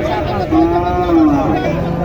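Sahiwal cattle at a crowded livestock market in Joypurhat lowing, one drawn-out moo rising and falling close by over a steady background murmur of the market crowd.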